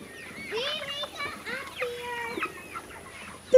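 Farm chickens give scattered soft clucks and short calls at a moderate distance, mixed with faint background chatter.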